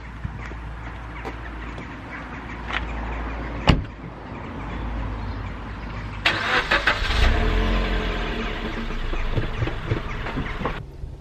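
Suzuki Swift Sport engine and stock exhaust heard from outside the car, a steady dull idle with a brief sharper rev partway through, fairly quiet and muted.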